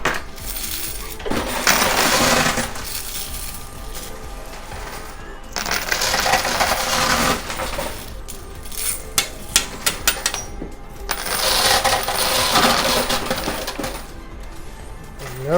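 Quarters drop and clatter inside a high limit coin pusher arcade machine, in repeated bursts of metallic jingling and sharp clinks, loud and close, with brief quieter gaps between the rushes of coins.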